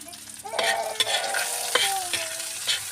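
Ingredients for miswa sautéing in a pan, a loud continuous sizzle and crackle with stirring scrapes and bright clinks against the metal.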